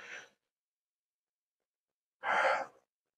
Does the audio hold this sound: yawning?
yes